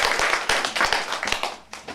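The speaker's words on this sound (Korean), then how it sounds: "우리 박수로서 다시 한번 맞아주시죠." Audience at a Kim Yu-jeong Literary Village gathering with visiting daycare directors claps together in a dense, steady burst of applause, many hands close and continuous for two seconds.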